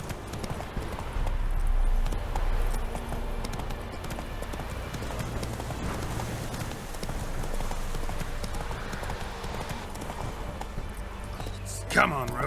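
Roach the horse galloping in The Witcher 3 video game, steady driving hoofbeats throughout with a voice speaking over them and a brief sharp sound near the end.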